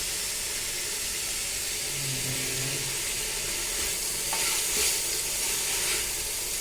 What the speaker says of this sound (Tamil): வெங்காயம், புதினா, தக்காளி, பச்சை மிளகாய் போட்டு வதக்கிட்டு